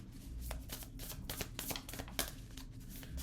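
Tarot or oracle cards shuffled by hand close up, a continuous soft riffling flutter with brief sharper slaps, steady for a few seconds with no voice.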